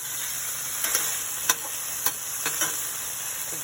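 Broccoli florets sauté in a pan on a stovetop, a steady close sizzle with occasional sharp scraping ticks from stirring, and no talking.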